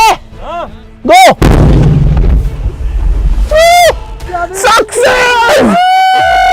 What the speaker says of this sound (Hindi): करते हैं धमाका गाइस, बिना बारूद का, बिना पटाखे का